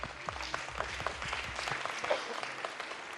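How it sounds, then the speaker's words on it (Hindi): Audience applause welcoming a contestant on a talent competition stage, a sustained wash of clapping from a crowd with some low voices and music underneath, fairly loud and steady. "जोरदार तालियों के साथ स्वागत कीजिए नेहा अंसारी का।"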